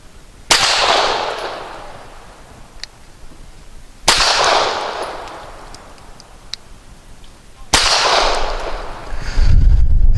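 Three loud, sharp shots from an Arsenal Firearms Strike One pistol firing PPU subsonic 158 grain rounds, spaced a few seconds apart outdoors, each a close crack followed by a decaying echo.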